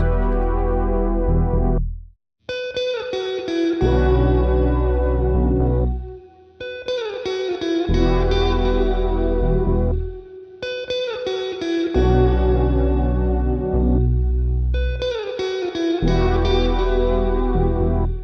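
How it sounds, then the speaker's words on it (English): Clean electric guitar plays a simple repeating melody of sustained notes, shimmering with a chorus effect and a touch of reverb, with no voices. "I just laid down this really simple guitar melody, guitar top line"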